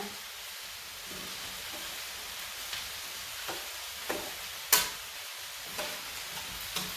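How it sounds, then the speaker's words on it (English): Onions cooking in a pot for white chicken chili, stirred with a spoon: a steady soft sizzle and hiss runs throughout, broken by a few light scraping knocks against the pot, one sharper clack near the middle. "we'll stir everything together"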